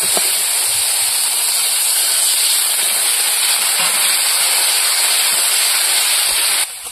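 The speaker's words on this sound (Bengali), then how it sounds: "এবার মশলাটা ভালো করে একটু জল দিয়ে কষিয়ে নেব।" Spice paste with coriander powder sizzles in a pan with a little water while cooking a vegetarian curry, a steady loud hiss lasting throughout before cutting off near the end.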